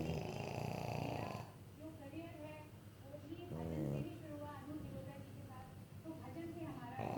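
Pugs snoring close by, a broad snore in the first second and a half followed by softer snorting breaths, with a voice talking over the rest.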